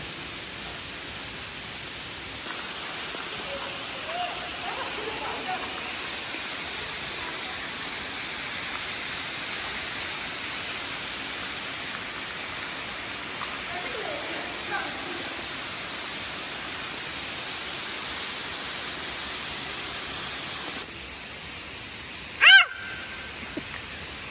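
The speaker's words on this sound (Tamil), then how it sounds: "தண்ணீர்." Flowing water rushing steadily on a morning hike, a broad, even hiss filling the scene throughout, with a brief sharp knock near the end.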